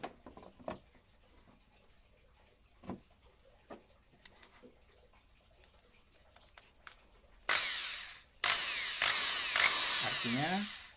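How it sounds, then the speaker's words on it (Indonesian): After faint clicks and taps, an electric drill plugged into a newly installed household power outlet whirs loudly in two bursts, the second spinning down at the end. "Kita coba dengan menggunakan bor."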